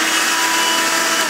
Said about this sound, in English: It's a handheld vacuum.